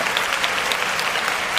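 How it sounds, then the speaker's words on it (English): A short burst of crowd applause, dense and even, lasting well under two seconds at moderate volume with no voices over it. "so there's your applause."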